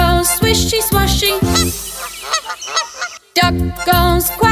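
Honking goose calls in a children's farmyard nursery song: a run of short, nasal honks sounds clearly between stretches of upbeat sung music.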